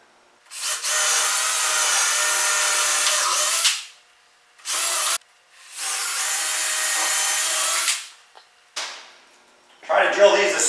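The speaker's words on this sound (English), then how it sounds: "So I'm going to do a first hole with my 3/8 auger bit." A power drill with a 3/8-inch auger bit bores into wood in long, loud grinding runs separated by short pauses, then a brief burst and some clattering at the end.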